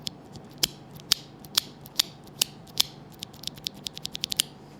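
Tactile Cherry mechanical keyboard switch pressed repeatedly up close, giving sharp dry clicks in an uneven rhythm that speed up toward the end.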